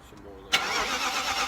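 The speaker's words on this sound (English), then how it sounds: "Just crank it over to build up oil pressure essentially." BMW E34 540i V8 engine cranking over without firing after timing chain tensioner work, a sudden loud broadband whirring burst that holds steady after a quiet start, close by.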